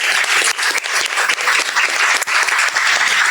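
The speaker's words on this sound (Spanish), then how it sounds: "Un aplauso por favor para Javier Chávez" An audience at a Chela Científica talk on climate change claps in a full, steady burst of applause, dense and sustained with a few sharper individual claps standing out.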